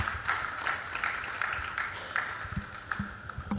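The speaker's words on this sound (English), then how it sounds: "A round of applause, please." Light audience applause at an investment conference on West African markets, with a steady patter of claps in a hall, moderately quiet and continuous for several seconds.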